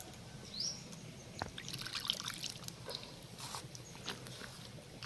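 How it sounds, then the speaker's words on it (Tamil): Water trickles and pours into flour batter in a home kitchen, a soft, steady dribble running for several seconds at moderate volume, with faint background chirps. "இந்த மாதிரி தான் தண்ணி ஊற்றிக்க எப்படியா தண்ணி தானே ஊற்ற போகிறோம்"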